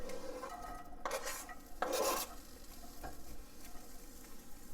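Onion hits avocado oil in a pan with a soft sizzle, broken by a few scraping stirs and utensil clinks against the pan. Fairly quiet overall, with no talking.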